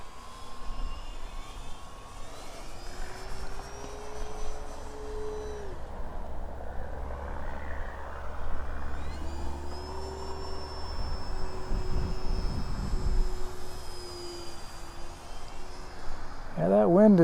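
Turbo Timber Evolution plane during a take-off and landing session, its engine whining and shifting in pitch as it passes, steady wind rumble underneath and a louder closing moment.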